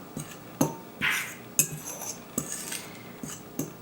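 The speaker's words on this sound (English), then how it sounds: "We give that a quick mix to blend it all together." A spoon clinks and scrapes against a bowl while sugar is mixed into baking mix for scones, with several sharp taps spaced through a brief mixing spell and no talking.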